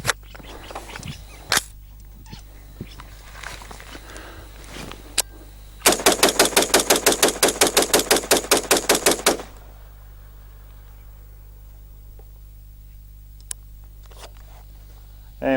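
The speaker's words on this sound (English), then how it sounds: "so let's see how it performs" A Ruger SR-762 rifle fires a rapid string of about twenty evenly spaced loud shots, preceded by handling clicks and followed by quieter movement sounds.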